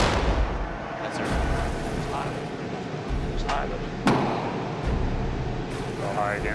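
A navy warship's gun fires over a loud steady rumble of ship machinery and wind, with a few sharp distant reports; people talk faintly in the background.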